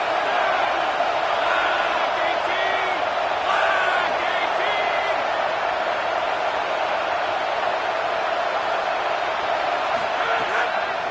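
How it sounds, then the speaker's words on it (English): A football stadium crowd roars in support of the defense on a 3rd-down play, a loud, continuous wall of cheering and shouting with occasional whoops rising through the din. "Decibels rising as the crowd gets behind this defense on 3rd down."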